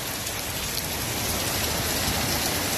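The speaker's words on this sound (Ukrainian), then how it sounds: "Дощ все більший і більший." Heavy downpour of rain, a dense, steady roar of drops hammering surfaces, loud and continuous with no talk.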